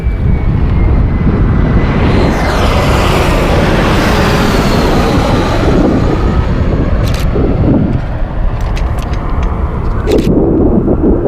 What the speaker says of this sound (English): Should be able to catch the planes just as they touch down.